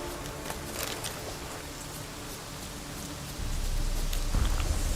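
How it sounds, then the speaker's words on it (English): Rain falling in the video game The Witcher 3, a faint, steady hiss and patter that thickens slightly toward the end. "sounds like rain, it's probably rain"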